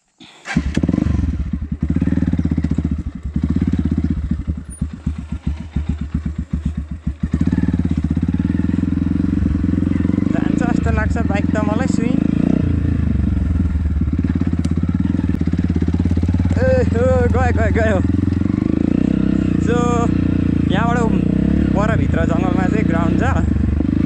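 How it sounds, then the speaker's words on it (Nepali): A motorcycle rides a jungle trail in Bhojpur, East Nepal, its engine rumbling steadily up close with clattering bumps early on, then holding a continuous drone while people talk over it. "यहाँबाट बाइक जान्छ कि जाँदैन, म यहाँबाट छिराउँछु"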